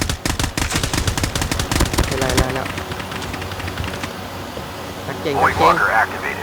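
Bursts of automatic gunfire in the Call of Duty Mobile video game, loud rapid shots for the first couple of seconds, then quieter battle noise with people talking over it.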